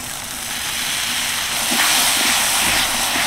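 Whisked sour yogurt hits hot oil and spice paste in a pan, a loud bright sizzling hiss that swells and crackles throughout.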